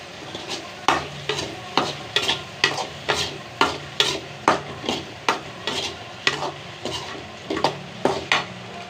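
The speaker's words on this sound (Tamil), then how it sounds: "சிம்மிலே வச்சு அது முட்டையை நல்லா ஃப்ரை பண்ணிக்குவோம் மெதுவாக." Eggs frying slowly in oil on low heat for egg biryani, stirred with quick regular scraping strokes against the pan about twice a second over a soft background sizzle.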